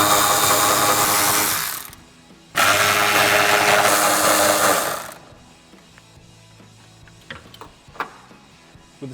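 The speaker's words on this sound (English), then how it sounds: "I'm going to use an 11mm socket, and I'm going to unbolt the taillights" A power ratchet or impact tool with an 11mm socket unbolts the taillight bolts on a 2005-2009 Ford Mustang, giving two loud sustained whirring bursts followed by quieter clicks and handling noises.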